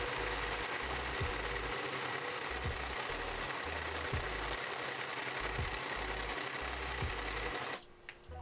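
A shaking homemade shave ice machine grinds ice for snow cones with a constant loud rattling whir and periodic low thumps, running steadily before cutting off near the end.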